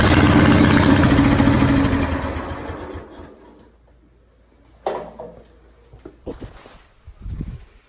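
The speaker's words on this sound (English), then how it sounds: "Full throttle, choke is on." An old Scotts 1742S lawnmower engine roars loudly at full throttle with the choke on, then cuts out after about two seconds and fades, leaving faint clanks and rattles.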